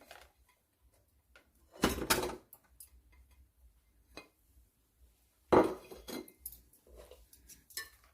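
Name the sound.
stirring cake batter with a spoon in a pot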